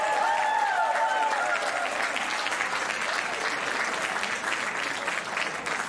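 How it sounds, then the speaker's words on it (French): An audience claps steadily throughout at a 2019 university talent show red-carpet event. The dense applause is moderately loud and carries a faint tonal sound near the start. "Ils sont en applaudissement."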